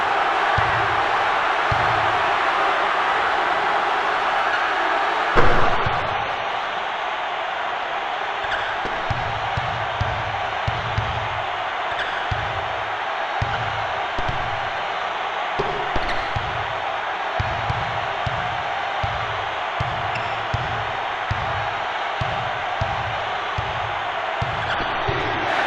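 Arena crowd noise in the PS1 basketball game NCAA March Madness 2001, a dense steady roar throughout with a repeated rhythmic thumping of a bouncing ball beneath it and one louder surge early on.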